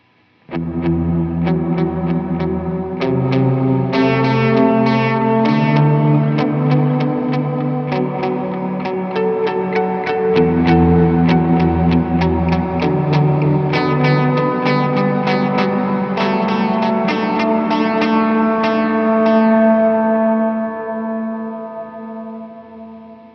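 Guitar played through a Line 6 POD Go delay model with high-mix reverb: picked notes and chords with repeating echoes and a lush wash tail, steady and loud, fading out at the end.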